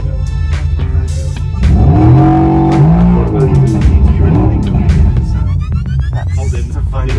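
Mercedes-AMG GT63 at the AMG works in Affalterbach, accelerating with a loud rising engine roar and throbbing exhaust, steady through the clip, while people talk over it.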